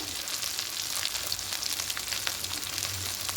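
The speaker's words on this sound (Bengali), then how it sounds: "আদা লঙ্কা পেস্ট দিলাম দিয়ে খুব ভালো করে একটু কষিয়ে নেবো" Ginger and chili paste sizzles steadily in hot oil as it is sautéed for an egg curry, a continuous close frying hiss with faint stirring underneath and no voices.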